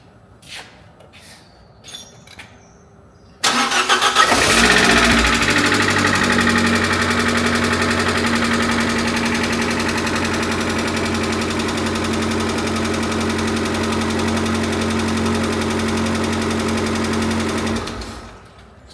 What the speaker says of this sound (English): It will be a little bit tappy because all those hydraulic lifters need to get some fresh oil around them.